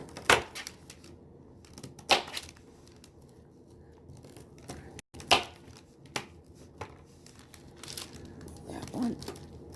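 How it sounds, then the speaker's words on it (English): A knife cuts the ends off vegetables in a few sharp, separate crunching chops, with rustling and crinkling between them. A voice is faintly heard. "Okay, so I'm going to cut these ends off"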